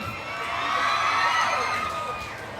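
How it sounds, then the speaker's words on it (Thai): A crowd screams and cheers, the shrill roar swelling in the middle and then easing off, with scattered high-pitched shrieks. "ขอเสียงกรี๊ดนักร้องหน่อยครับ"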